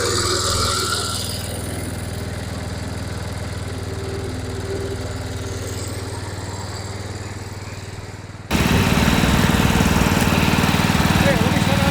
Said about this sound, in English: let me turn off my microphone so you can hear the motor running, not my voice